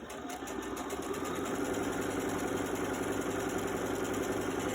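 A sewing machine stitches a quilt panel, running steadily and loudly close up with a fast, even mechanical whir and rattle throughout, no voices over it.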